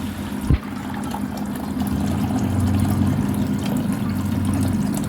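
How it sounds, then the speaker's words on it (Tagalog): Water poured into a pan while cooking seafood pansit bihon, a Filipino rice noodle dish, making a steady, continuous rushing splash that holds at an even level for several seconds, close by with no talking. "So maglalagay na tayo ng tubig."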